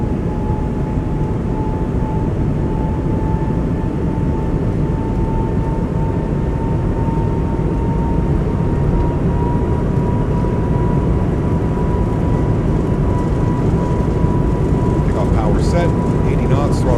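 Airbus A220 engines spool at takeoff power in a flight simulator cockpit, a steady loud roar and hum with a faint high whine running throughout.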